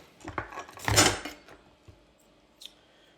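A whisk clinks and scrapes through dry biscuit ingredients, including baking powder and salt, in a bowl: a few sharp taps, then a louder swirl of rattling strokes, fading to occasional faint clicks.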